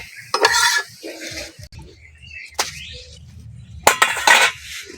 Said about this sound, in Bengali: পরোটা ভালো চেপে চেপে ভেজে নিয়েছি এবার তুলে নেব